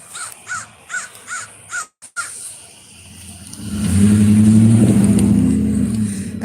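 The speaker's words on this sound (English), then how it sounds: "You can hear the crows." Crows cawing outdoors in the cold, a run of five or six loud rhythmic caws close by, then a car or truck engine swells up and rumbles past.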